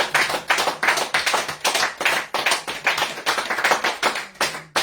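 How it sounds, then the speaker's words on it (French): Church congregation clapping in rhythm to praise God at a French-language service, a steady series of loud, evenly spaced claps from a group, close and unaccompanied by talk. "je voudrais entendre les applaudissements vers l'Éternel."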